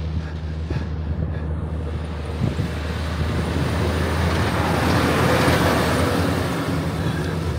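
A Dakar Rally service truck drives along, its steady low engine rumble and road noise rising gradually, with no talk over it.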